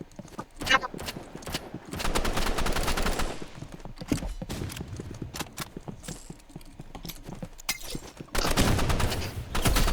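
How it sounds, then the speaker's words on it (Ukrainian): Bursts of rapid gunfire in the video game Rivals crackle in waves, loud and close, with brief pauses between volleys and voices talking over the action. "Я стріляю по ньому."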